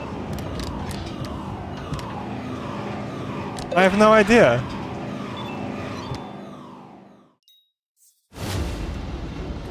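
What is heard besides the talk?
siren going off in the video game Docked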